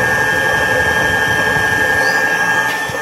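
A homemade generator built from a washer-dryer motor runs loud and steady, a constant mechanical whine over a low rumbling hum, with no voices.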